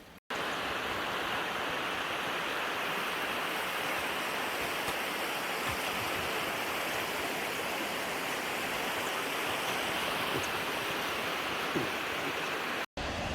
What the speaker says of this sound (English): we just came around the corner to our next to last waterfall